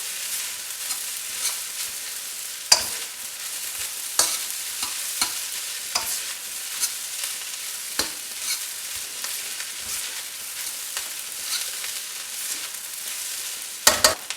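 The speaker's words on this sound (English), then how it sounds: "we're just going to give that a good toss and a good stir" Fried rice with egg and chilli, flavoured with Vegemite, tossed and stirred in a hot pan, a steady soft sizzle broken by regular scraping and clattering strokes, close and without voices.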